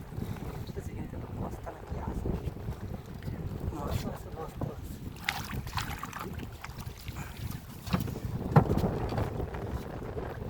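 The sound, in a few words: wind blowing on a boat on Sundarban river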